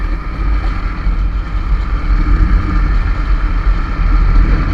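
A motorbike is ridden on an open road, with steady, loud broadband wind rush and a low engine drone filling the whole stretch and no pauses.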